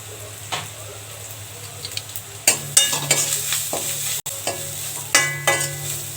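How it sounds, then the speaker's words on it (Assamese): Spices and turmeric sizzle in a hot pan for a dry fish dish with a crackling hiss, broken by several sharp scraping stirs that briefly swell the sizzle. "মছলাখিনি ভজা হৈছে বেছি ভাজিব নোৱাৰি"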